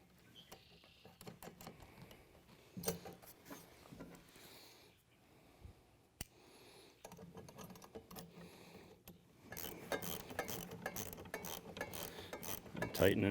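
A 1/4 by 1.25 inch nut and bolt with a washer and lock nut is tightened on a floating ice eater, giving quiet metallic clicks and ratcheting that grow busier and louder toward the end.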